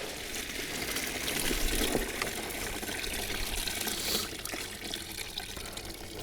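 Water drains and splashes steadily out of the small sump of an unused, roughly 70-year-old Rolls-Royce crate engine, a continuous close, bright trickling gush with no talk over it.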